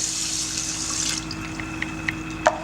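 A steady stream of water pours into a pot of short-grain sushi rice, a soft continuous hiss ending with a few small drips and splashes, close and fairly quiet.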